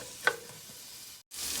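Onions frying in a pan give a steady close hiss of sizzling with a brief scrape of stirring, cut off by a short gap before the sizzle resumes.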